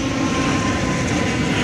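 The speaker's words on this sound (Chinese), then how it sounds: "华信航空 ATR-700 型螺旋客机降落了，下降了" A Mandarin Airlines ATR72-600 turboprop airliner descends to land at Taipei Songshan Airport, heard from a nearby park as a steady, broad engine roar with a faint droning tone, no talk.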